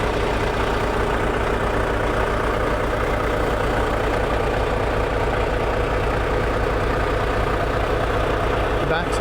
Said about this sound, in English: Just hear that motor purring